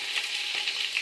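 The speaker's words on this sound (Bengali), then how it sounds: "এলাচ, লবঙ্গ, শাহজিরে এবং শাহমরিচ আছে, এগুলো আমি সব তেলে দিয়ে দেবো" Whole spices (mace, cinnamon, cardamom, cloves, caraway and black pepper) sizzle and crackle steadily in hot oil for chicken biryani, a close, continuous hiss with small pops.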